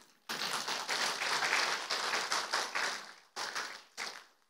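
A church congregation claps, a dense burst of applause that fades, then two short final rounds of clapping.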